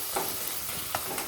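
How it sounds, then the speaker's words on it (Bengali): Green chillies and tomato frying with ginger-cumin paste in a pan, a soft continuous sizzle broken by a couple of quick scraping stirs, close up and fairly quiet with no voices. "খুব ভালো করে নাড়িয়ে দিলাম।"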